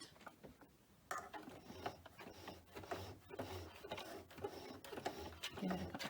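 A home sewing machine stitches a glitter HTV tassel for a shoulder bag, starting after a pause into a quick rhythmic whirring run of needle strokes, close and fairly quiet, with no speech.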